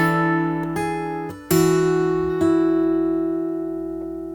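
Slow fingerstyle guitar passage from a song, with about five unhurried plucked notes and bass notes ringing out clearly and decaying together, played alone without voices.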